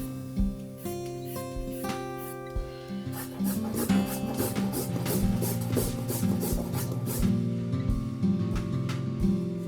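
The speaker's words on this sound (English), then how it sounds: "Then I peel and grate a carrot." Carrot rubbed against a grater for sauerkraut, close rhythmic rasping strokes in an even back-and-forth pattern, with no talking.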